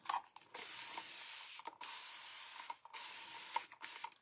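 Water spritzed from a spray bottle onto tissue paper on a vintage window, in short quiet hissing bursts separated by pauses, faint and close.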